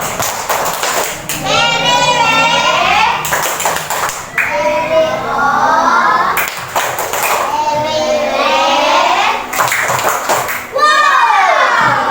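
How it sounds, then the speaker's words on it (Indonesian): Children in a classroom clap in several bursts of rhythmic patterned clapping with chanting voices, interrupted by short pauses. "Oke, beri tepuk wow"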